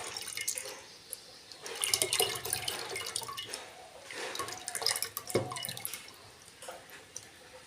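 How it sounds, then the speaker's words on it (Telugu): Tamarind juice pours into a bowl with soft trickling and dripping splashes at close range, coming in uneven bursts, quiet overall and without speech. "నేను దాంట్లోనే చింతపండు రసం పోస్తున్నానండి"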